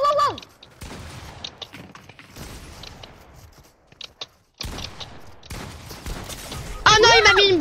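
Gunfire in the Fortnite video game on a Halloween map, with bursts of shots and impacts through the clip, an abrupt loud onset midway and a brighter effect at the end, under excited talking.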